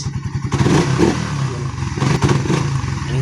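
A Suzuki Raider 150 Fi motorcycle fitted with a filterbox idles and revs up close, giving a loud, steady, raspy engine drone that swells and eases between throttle blips.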